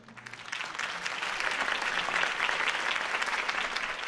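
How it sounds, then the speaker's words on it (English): Applause from a crowd after a campaign speech by Harvey Dent in the Batman Telltale video game, a steady dense clapping that rises quickly and holds loud across the whole stretch. "If only Mr. Wayne, my campaign's largest backer, could have heard that applause"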